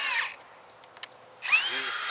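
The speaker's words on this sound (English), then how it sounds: "use the hammer drill on hammer setting." A hammer drill on hammer setting bores a hole for a Terra gas auger, its loud whirring grind starting and stopping in two short bursts separated by a quiet pause.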